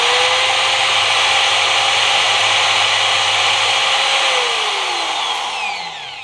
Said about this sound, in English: You'd think it would cut like butter, but it really is tough stuff, this aluminum alloy.